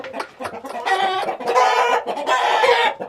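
Several Indian game roosters crow and cluck loudly and close by in overlapping, harsh calls that rise and fall with brief gaps, with no speech.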